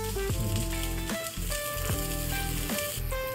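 Rice fries in butter with sautéed garlic for fried rice, a steady sizzle running underneath background music, moderately quiet.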